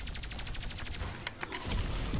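Gunfire in a video game, a rapid burst of automatic shots firing in quick even succession, followed by a few scattered louder shots and impacts, close and loud, with no talking.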